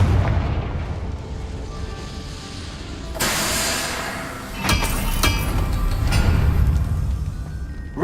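A Confringo fire spell bursts in Hogwarts Legacy with a booming, loud explosion and sharp crackling blasts after it, set over a steady low rumble of game combat.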